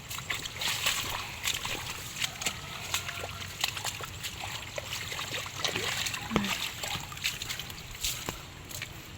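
Steady wash of running, splashing water overflowing onto a flooded road in heavy rain, with scattered small splats and drips, fairly close, moderately loud, and no clear voices.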